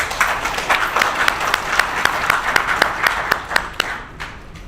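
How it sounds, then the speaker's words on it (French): An audience in a hall applauds after a speech at a university launch event, a dense, even wash of clapping with distinct sharp claps throughout that thins out toward the end. "Est-ce qu'elle ne mérite pas d'autres applaudissements, s'il vous plaît?"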